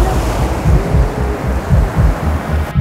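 Ocean surf pounding a seaweed-gathering shore, loud and close, with rolling rumbling waves in a steady rhythm and heavy wind buffeting the microphone.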